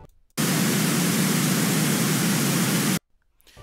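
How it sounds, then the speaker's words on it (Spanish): Pink noise test signal, a loud steady hiss weighted toward the low end, switched on abruptly and held evenly for about two and a half seconds before cutting off into near silence. "Así suena el ruido rosa."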